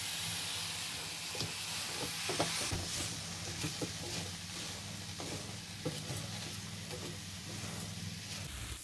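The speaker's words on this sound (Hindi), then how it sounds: "चीनी के मेल्ट होने तक हम इसको मिक्स करते रहेंगे।" Sugar and milk stirred in a pan for coconut ladoos, with a soft hiss and sizzle under irregular scraping strokes that continue steadily at a low level, and no talking.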